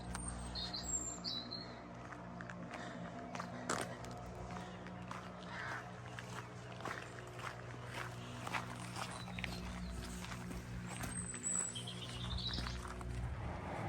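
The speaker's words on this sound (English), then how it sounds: "So we've got a tractor in the background, but a lovely little bird singing, if it's going to sing again." Faint chirps from a small bird sound now and then, a few brief calls near the start and again near the end. Under them a low tractor engine drones in the distance, with soft footsteps and rustling nearby.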